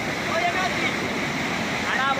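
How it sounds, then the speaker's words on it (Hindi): The flooded Amlawa river rushes fast in a loud, steady roar of turbulent water that carries on without a break from start to finish. "इतना तेज बहाव पानी का"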